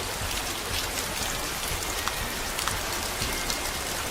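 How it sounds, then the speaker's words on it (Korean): Steady rain falling, a dense even patter of drops with occasional louder splashes, continuous throughout with no voices. "마침 소나기가 내려서 당당 박사님은 물을 구할 수 있었어요"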